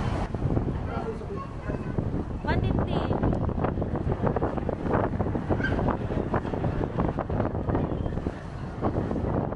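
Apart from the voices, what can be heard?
strong wind on a boat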